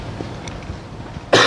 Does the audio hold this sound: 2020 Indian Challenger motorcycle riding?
no